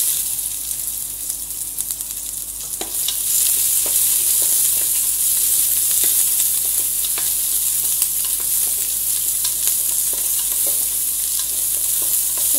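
Onions hit hot oil in a pan for mutton nonbu kanji, the sizzle jumping louder after a few seconds and then holding as a strong, close hiss with scattered stirring clicks.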